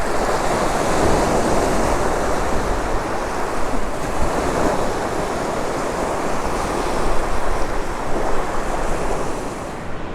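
Strong, continuous cold wind on a lake shore buffeting the microphone, with a steady roar of surf or lapping water underneath, loud and unbroken throughout.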